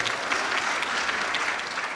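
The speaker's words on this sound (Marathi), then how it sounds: "त्या दादासाठी सुद्धा एकदा सर्वांनी टाळी वाजवा" Audience applause at a Marathi kirtan devotional gathering, broad sustained clapping from many hands, steady and fairly loud for about two seconds.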